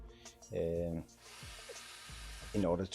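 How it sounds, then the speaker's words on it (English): A small drill bores holes into a block of wood for a steampunk miniature house build, a whirring burst of about a second heard between short stretches of talking. "I just decided I needed to drill some holes in this block of wood"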